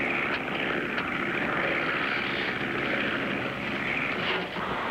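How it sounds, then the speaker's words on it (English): A propeller airplane drones steadily overhead as it comes in to land, a loud continuous engine roar filling the whole stretch without any voices. "That plane's late."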